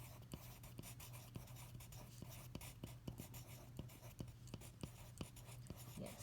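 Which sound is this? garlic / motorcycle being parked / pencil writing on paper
pencil writing on paper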